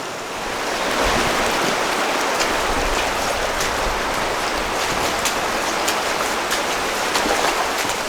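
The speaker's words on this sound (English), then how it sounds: "here we have what I think is the first and only waterfall on the route" Steady rushing water from a small waterfall along the Narrows hiking route in autumn, a dense continuous broadband roar close by that swells in after the first second and holds evenly with no voices.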